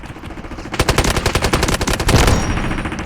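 An M7 rifle in Delta Force Mobile fires a long, steady automatic burst of evenly spaced, punchy shots, loud and close, continuing for over two seconds before fading into lingering echo.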